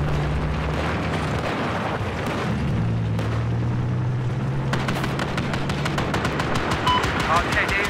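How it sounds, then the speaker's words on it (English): Battlefield 4 combat with RPG fire and gunfire: dense, continuous loud blasts and rattling shots, rapid bursts clustering in the second half, with a low engine drone underneath. "I got the guy shooting RPGs at us."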